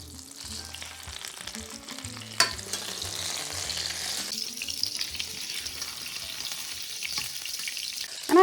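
Bread fries in hot oil, a steady close sizzling and crackling hiss with a few sharper pops and stirring clatters.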